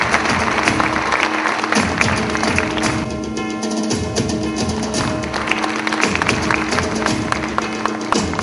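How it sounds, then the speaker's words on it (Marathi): An audience claps for backstage workers at a stage event, with dense, sustained applause that surges and eases in waves and carries some crowd noise. "आपण या बॅकस्टेज वर्करसाठी जोरदार टाळ्या देऊया."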